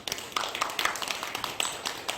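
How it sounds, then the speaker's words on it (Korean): A church congregation at a Sunday morning service claps together in a brief burst of dense, scattered handclaps, heard from within the hall. "박수 한번 합시다"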